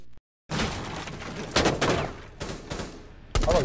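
Gunfire in the video game Rainbow Six Siege arrives as loud clustered bursts and single sharp shots after a brief silent gap, with a faint voice now and then.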